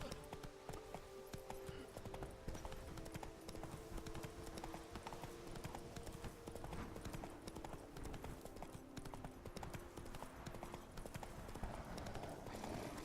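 In The Witcher 3, the hooves of the horse Roach drum a fast, continuous clip-clop for several seconds at a fairly faint level, with no one talking over them.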